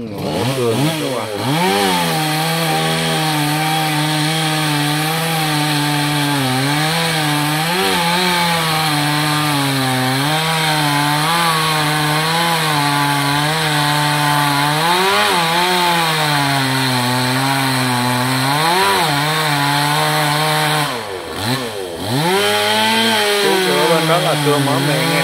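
A chainsaw cuts into a huge khaya tree near a market, a loud continuous whine whose pitch rises and falls as the engine bogs and revs, dipping briefly near the end before roaring again.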